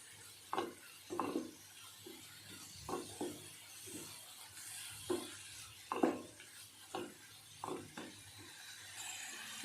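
Fenugreek leaves frying in oil in a pan, with soft sizzling under a series of scraping stirs of a spatula against the pan, about a dozen spaced strokes close by, no talking.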